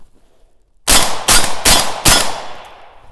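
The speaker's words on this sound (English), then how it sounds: "we'll shoot some steel" Four loud, sharp rifle shots from a Galil fired at steel targets outdoors, evenly spaced about a third of a second apart, each with a brief ringing tail and no talk between them.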